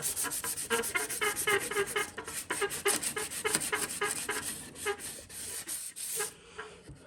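Sandpaper rubs over carbon fiber in quick, rhythmic scratching strokes, close and moderately loud, keeping a steady back-and-forth pace before trailing off.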